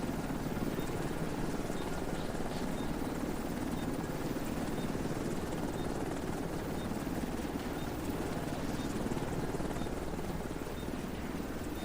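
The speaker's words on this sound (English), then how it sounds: "Extraction done. Helo is headed back." Steady, distant-sounding rotor thrum of an extraction helicopter flying away in The Division 2, a continuous chopping drone held at a low, even level throughout.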